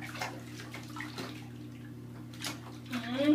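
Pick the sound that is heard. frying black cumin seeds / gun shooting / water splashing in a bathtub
water splashing in a bathtub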